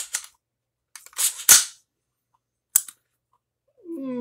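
An AR-15 rifle bolt snapping shut, heard as a few sharp metallic clacks, the loudest in the middle, separated by silence, followed by a short tonal sound at the end.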